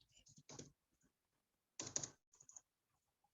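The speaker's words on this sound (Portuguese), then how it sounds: "Nada como um teclado que não é o seu, para você escrever rápido" Quick bursts of typing on an unfamiliar computer keyboard, close and fairly faint, with clusters of rapid key clicks separated by pauses.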